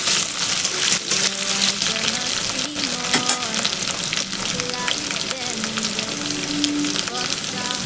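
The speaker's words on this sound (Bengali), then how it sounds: "এই গোটা পোস্ত দিয়ে আলুটা দিয়ে একটু ভাজা করে নেব।" Diced potatoes fry with whole poppy seeds in a pan for a ridge gourd and potato posto dish, giving a steady, close, loud sizzle throughout, with faint stirring clinks and no clear talk over it.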